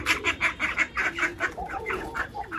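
Chickens and ducks on a rooftop pen being fed, clucking in a busy rhythmic series of short calls, close and fairly loud.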